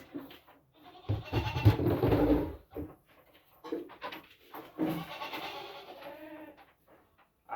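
Goats bleat loudly and repeatedly at feeding time on an off-grid homestead, several drawn-out calls overlapping in close bursts separated by short pauses.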